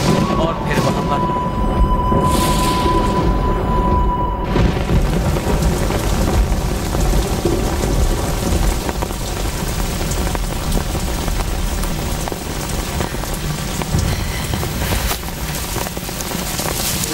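A thunderstorm with heavy rain over a village: a loud, continuous downpour with deep rumbling thunder rolling underneath, holding steady for the whole stretch.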